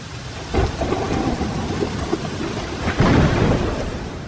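Steady rain pours down with deep rolling thunder rumbling through, swelling sharply around the middle and again near the end; a continuous stormy wash with no voices.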